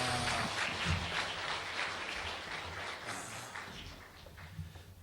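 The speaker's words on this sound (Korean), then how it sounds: "다시 한번 크게 박수 한번 해주세요" Congregation at a New Year blessing revival service applauding, a dense continuous wash of clapping held steady for several seconds with a low murmur of voices underneath.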